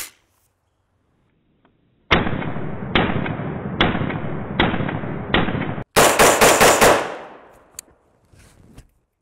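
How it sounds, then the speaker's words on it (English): A rifle fitted with a BattleComp muzzle compensator fires five evenly spaced loud shots, each with a short ringing decay, followed by a rapid burst of several shots that fades out, with near silence before and after. "gonna gas this guy up and put some rounds through the BattleComp"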